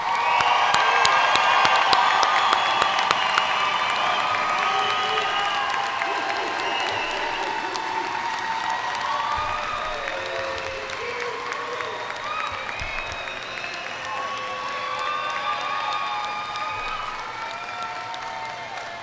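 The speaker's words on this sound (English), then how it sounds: "How about one more round of applause for this graduating class?" A crowd at a high school graduation ceremony applauds and cheers the graduating class, sustained clapping with shouts and whoops rising early and gradually easing off over about twenty seconds.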